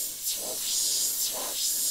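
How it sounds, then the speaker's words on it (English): An Iwata HP.C Plus airbrush with a 0.3mm needle sprays in two short hissing bursts over a steady airy hiss. "So just an all-round great airbrush. Perfect for fine detail, even broader spray."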